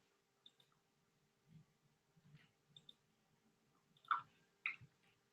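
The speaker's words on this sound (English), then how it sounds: "I'm just typing that in now." Typing on a computer keyboard, sparse faint clicks and taps spread irregularly, with a couple of sharper keystrokes near the end, in an otherwise quiet room.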